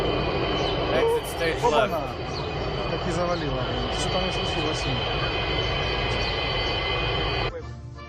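An airplane running off the end of a runway: a steady, loud engine roar holding throughout, with voices talking over it, until it cuts off abruptly near the end.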